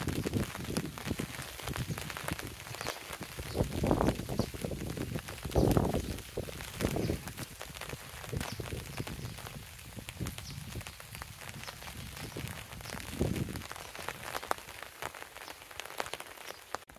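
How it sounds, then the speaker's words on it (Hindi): Steady heavy rain patters on surfaces in the mountains amid cold gusting wind, a dense continuous hiss with louder swells and drops close by, no talk. "सुबह 4 बजे से बारिश हो रही है लगातार और बहुत ज्यादा हवा चल रही है, ठंडी ठंडी हवा चल रही है।"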